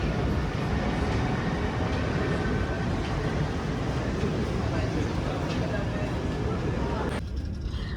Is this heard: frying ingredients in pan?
no